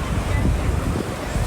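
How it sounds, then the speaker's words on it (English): Sea surf breaking on the Bohai Sea shore near the Great Wall's end, a loud close wash of waves with heavy wind buffeting the microphone, steady throughout. "So behind me is the sea."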